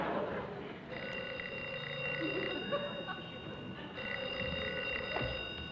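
A telephone rings twice with a bright electronic trill, fairly faint against a quiet room with some low background noise.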